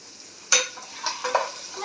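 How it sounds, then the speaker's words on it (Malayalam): Chopped onion and capsicum drop into a hot pan for chilli chicken, giving a sudden sizzle burst followed by a few more crackling flare-ups, close and fairly quiet, with no talking. "സവോളയും പിന്നെ ക്യാപ്സിക്കോടെ ഇട്ട് കൊടുക്കാവേ."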